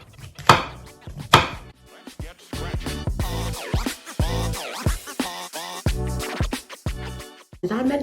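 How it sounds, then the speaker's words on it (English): Mushrooms being roughly chopped with a knife on a board while prepping a mushroom mix for beef Wellington, with quick uneven chops in close bursts and brief scraping between them. "So we're just going to roughly chop everything up like so."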